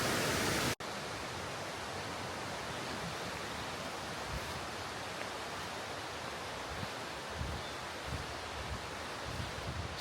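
Steady broadband roar of a river rushing through a humid, jungle-like West Virginia forest, loud and unbroken throughout after a brief dropout near the start, with no voices.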